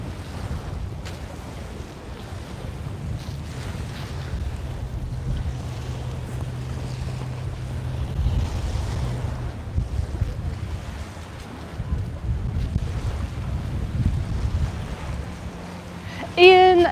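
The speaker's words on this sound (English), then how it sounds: "the wind is picking up." Strong wind roars steadily across a boat rounding a bay at Puerto Pollensa, Mallorca, with waves and water rushing beneath, gusting louder in places and buffeting the microphone near the end.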